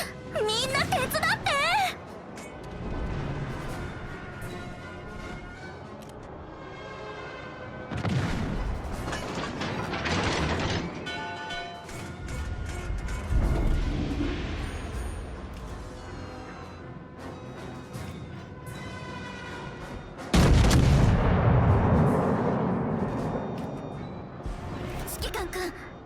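Heavy naval gun salvos from warships in World of Warships Legends, booming bursts at intervals over background game audio, with voices talking between and over the shots.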